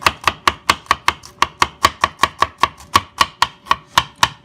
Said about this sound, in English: I'm going to chop it pretty fine.